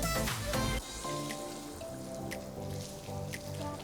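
A garden hose on its shower setting sprays water onto a car waxed with paste wax, giving a steady patter of droplets with a few sharper splashes and drips throughout.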